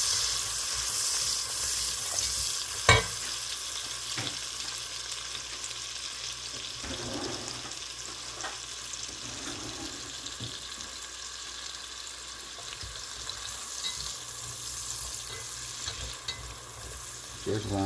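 Chopped onions and minced garlic sizzle in half a stick of melted butter in a pan for Alfredo sauce, a steady close frying hiss with occasional stirring clinks and scrapes, no talk over it.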